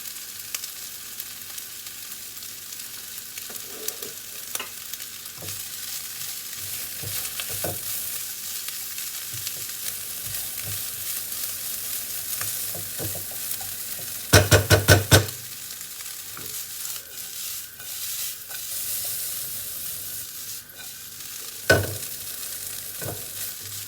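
Garlic fries in a pan for leftover-meat fried rice, giving a continuous bright sizzling hiss with a few sharp utensil clacks midway and no talking.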